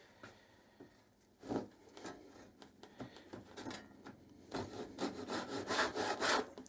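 A rip-cut handsaw working through wood, with a few tentative strokes at first followed by a fast, loud run of rhythmic back-and-forth rasping strokes close up.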